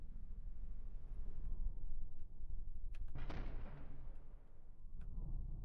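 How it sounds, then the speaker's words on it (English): A particle cannon fires in a video game during weapon testing, a sudden bright blast around the midpoint with a decaying roar, over a steady low rumbling game background. "I don't remember what I had the particle cannon set to last time, but it seems to me like it's doing a decent job"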